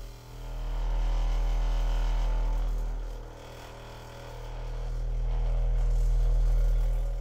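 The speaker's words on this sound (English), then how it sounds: "That rattle-ish noise you're hearing is definitely coming from the chair" A deep, loud bass drone from a 12-inch subwoofer swells and fades, with a buzzy rattling vibration from a nearby chair riding on top of the low rumble.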